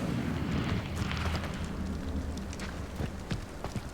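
Incendio fire spell cast in the video game Hogwarts Legacy: a loud, roaring burst of flame with crackling and rumbling bursts that fade into a sustained whooshing rush, heard without talk.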